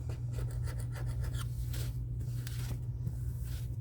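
A blunt, non-sharp tool scrapes across a Dollar Tree picture frame in a run of close, rough, rasping strokes over a steady low hum, with no talking.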